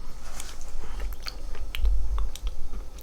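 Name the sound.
eating ice cream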